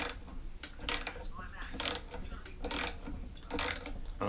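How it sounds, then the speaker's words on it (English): Bolts being undone on the handle of a Hayter Hayterette mower, giving a loose run of ratcheting, creaking mechanical clicks in several bursts, close and fairly quiet. "So I'm going to start off with undoing these bolts on the handle."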